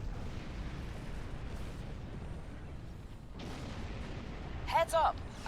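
Explosions in the space combat game Star Trek Online, with low rolling booms and rumbling blasts that run continuously and loud, then a brief sharper burst near the end.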